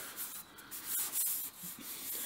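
Steady abrasive block sanding of a Jaguar car panel by hand, back-and-forth strokes in a continuous hiss, close up with no talking.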